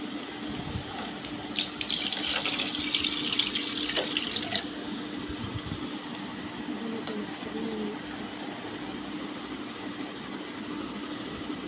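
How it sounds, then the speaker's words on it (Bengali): Water gushes from a tap into a cooking pot, a loud splashing stream for the first few seconds that then gives way to a quieter, lingering flow. "তখন আমি ডেক্সিটাতে পানি দেবো।"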